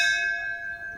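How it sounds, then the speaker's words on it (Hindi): A doorbell rings with a bright, sustained bell-like chime that holds steady and fades only slightly, heard alone without any talking. "अबे घंटी मार दा।"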